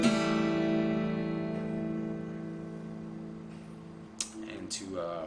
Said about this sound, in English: he's going to play this particular chord, which sounds like this